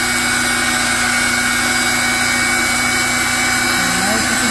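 A Ridgid 300 pipe machine threading steel pipe, a loud steady motor drone with a grinding mechanical whine that stays constant and close throughout.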